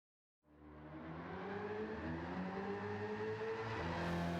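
A 1970 Chevrolet Chevelle SS 454 Sport Coupé drifts around Suzuka in Gran Turismo 7, its V8 roaring in from silence and holding a steady, loud, rising engine drone with shifting revs throughout.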